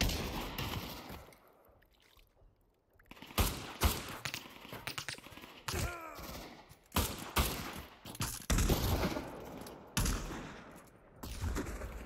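Gunfire in the WW1 and Stalingrad modes of the VR shooter Pavlov VR, irregular bursts of sharp shots and rattling volleys with quieter gaps between, fairly close and loud, no talking.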